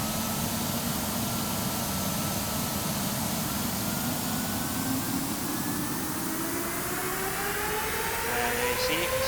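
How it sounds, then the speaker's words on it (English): CFM LEAP-1A jet engine on an Airbus A320 in a flight simulator spooling into reverse thrust, a loud steady roar with rising whine that holds throughout. "So we go outside and we'll just do reverse thrust."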